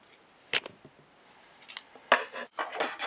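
Scissors trimming a plastic part during a model kit build, a few crisp snips and rustling cuts in quick succession, close and fairly quiet, with no talking.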